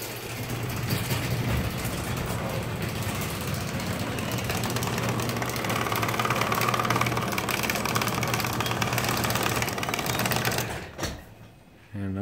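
A Stanley Premier Digital 1/3 HP Deluxe garage door opener with a metal worm gear and plastic drive runs steadily with a loud mechanical hum and whir, then stops abruptly near the end.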